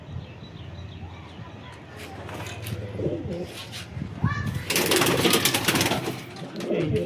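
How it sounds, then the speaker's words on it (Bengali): An old domestic pigeon coos softly and low at home while a person talks nearby, followed by a louder burst of rustling or fluttering. "এটা অনেক পুরনো পায়রা আমার বাড়ির।"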